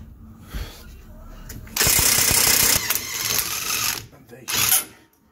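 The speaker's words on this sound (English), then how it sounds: "let's see if this comes off with a power tool" A power tool loosens a 21 mm bolt on a Porsche Brembo brake caliper: a loud burst of rapid impact hammering, a pause, then another shorter burst, with quieter handling noises between.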